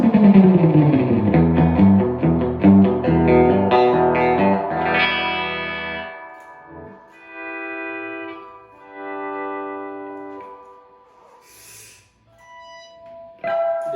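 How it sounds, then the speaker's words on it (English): Electric guitar chords played through a BOSS RE-2 Space Echo ring out with heavy echo and reverb, then the notes fade into long washy repeats and sparse decaying tones. "we've got reverb that sounds pretty convincing"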